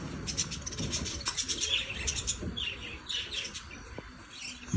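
Small birds chirp and tweet in quick bursts at moderate distance, over a busy background murmur, with no clear talking.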